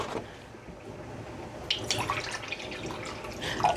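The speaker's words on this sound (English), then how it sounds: "2 cups of filtered water in this pot" Two cups of filtered water pour into a cooking pot, a steady close splashing stream with dripping and gurgling as the pot fills in a home kitchen.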